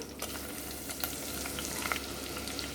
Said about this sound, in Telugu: సరిపడగా నూనె వేసుకుని ఘాట్లు పెట్టుకున్న పచ్చిమిర్చిని వేస్తున్నాను పచ్చిమిర్చి అలా వేగుతున్నప్పుడు